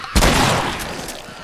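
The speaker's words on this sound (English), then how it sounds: "Let's try the shotgun." A shotgun blast in The Last of Us, a single loud booming shot with a long rumbling tail, close and alone.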